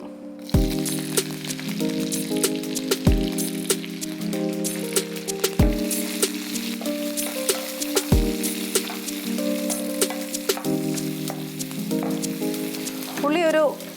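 Onions fry on a slow flame in a pan for a cashew paneer masala, giving a soft, steady sizzle with faint crackles under louder melodic background music.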